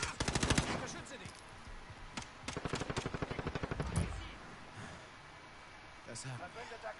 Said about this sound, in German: Ich hab auf den Kopf geschossen mit der Pistole